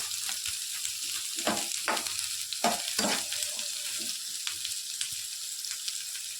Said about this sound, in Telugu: ఆనియన్స్ అయితే ఫ్రై చేసేసుకున్నాము. లైట్ బ్రౌన్ కలర్ ఫ్రై అయితే సరిపోతుంది.